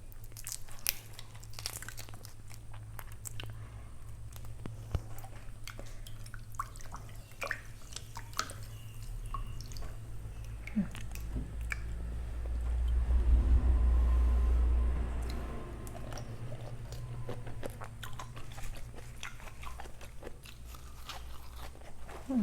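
Close, wet crunching and chewing of a raw river prawn head, with crisp bites and moist smacking that grow denser midway, no talking.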